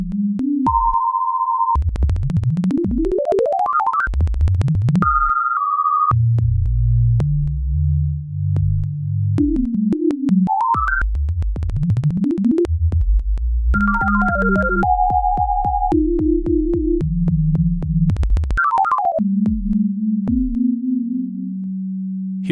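Synthesizer oscillator output: steady sine-like tones held at fixed pitches alternate with rapid rising and falling pitch sweeps and chirps, loud and continuous with no voice.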